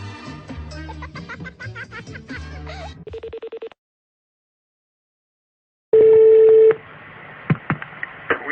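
A telephone call being dialed: a burst of rapid keypad tones, then a short ringing tone, a pause of silence, and a loud steady ring or dial tone, followed by faint line clicks.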